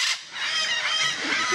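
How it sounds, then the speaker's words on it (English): Parrots calling at an aviary attraction in Pigeon Forge, a dense chorus of squawks and screeches at moderate volume with no talk. "Oh, listen to all these parrots."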